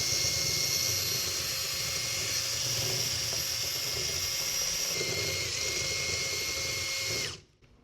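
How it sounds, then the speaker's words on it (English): A power drill mixing water-based paint runs steadily at low speed with a constant whine and churning rumble, loud and close, for about seven seconds before stopping abruptly. "with water-based paint, you definitely want to mix on low speed on your drill"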